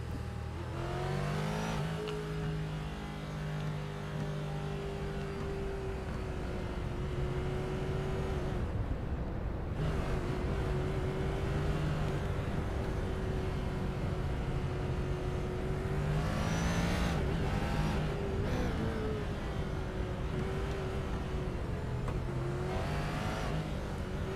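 GT race cars in a racing video game lap Watkins Glen, engines droning steadily with long sustained notes that shift as they upshift and lift, interrupted by brief dips and renewed acceleration, continuous and moderately loud with no voices.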